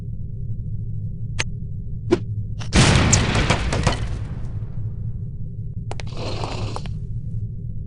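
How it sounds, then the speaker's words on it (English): An explosive lipstick from No One Lives Forever goes off with a loud burst that tails off over about a second, after a couple of sharp ticks. A second, shorter crackling blast follows a few seconds later. "These relatively inconspicuous-looking lipsticks are actually powerful explosive devices that detonate on impact."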